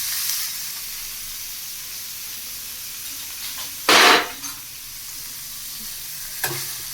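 Paneer pieces dropped into hot oil in a home kitchen give a steady, close sizzle, with a sudden louder burst of spattering about four seconds in and a brief flare near the end.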